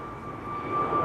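A jet airliner roars steadily as it departs Amsterdam Schiphol Airport, a brief, loud, even engine drone with a faint whine riding on top.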